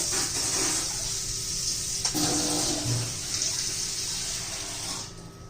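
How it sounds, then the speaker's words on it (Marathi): Water pours steadily into a pan of spiced chicken, a continuous splashing rush close by that tapers off near the end, with no talking. "त्याच्यामध्ये पाणी घालून घ्यायचं आहे"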